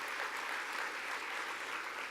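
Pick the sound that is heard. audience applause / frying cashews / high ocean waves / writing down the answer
audience applause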